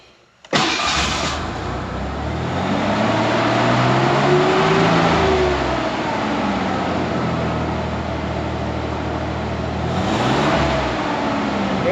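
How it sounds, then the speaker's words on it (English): A Ford Bronco engine with new spark plugs, wires and coil starts and revs up and down in long smooth sweeps, a loud, close, steady mechanical roar that rises and falls several times before settling. "Does seem to rev a little smoother."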